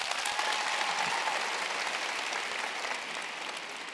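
A comedy-night crowd at the 1Live Köln Comedy-Nacht XXL breaks into a dense burst of applause that continues for the full stretch and fades only slightly.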